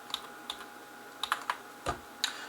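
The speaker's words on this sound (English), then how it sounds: "Notice I use the keyboard, not the mouse." Keystrokes on a computer keyboard while entering spreadsheet formulas, a few quick close clicks, a pause, then a short burst of taps and one last key press, with no talk.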